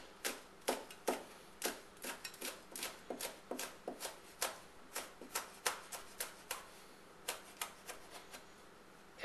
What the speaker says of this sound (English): the way I do it is I just cross cut it real small